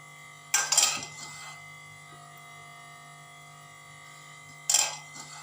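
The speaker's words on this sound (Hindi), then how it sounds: "जब तक ऑयल गर्म होता है हम अपना मसाला कूट देते हैं।" Spices for a Balochi desi chicken are pounded by hand in two short bursts of clattering metal strikes, each lasting about half a second, separated by a long pause, with no talk.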